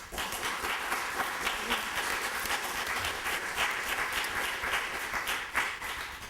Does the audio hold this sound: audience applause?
yes